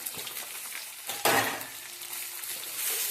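Onions and green chillies hit a hot pan for an Indian pea, potato and carrot curry, giving a sudden loud sizzle that settles into steady frying with stirring, no talk.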